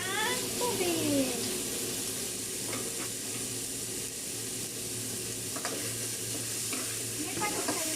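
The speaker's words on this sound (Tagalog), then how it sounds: "Ipag-brown natin ng konti para maano yung taba mo." Chicken pieces browning in a pressure cooker pot, giving a steady, moderate sizzle with occasional stirring scrapes and clinks over the full stretch.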